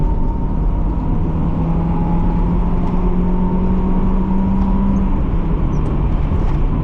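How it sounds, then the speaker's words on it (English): 1989 Mazda Miata engine held high in the rev range from inside the cabin, a sustained droning whine with a slowly rising then dropping pitch over steady road and wind noise, loud and close. "Go up in the rev range here."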